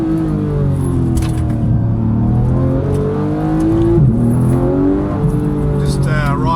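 A Porsche engine rumbles steadily and grows louder as it approaches, with a person talking over it throughout.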